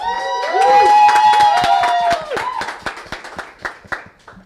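An audience at an improv workshop claps and cheers together, loud dense applause with whoops that swell at first and then thin out into scattered claps.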